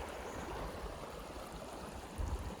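Running water of a creek at a gold prospecting site at Tuena, a faint, steady rushing wash with a brief louder surge near the end.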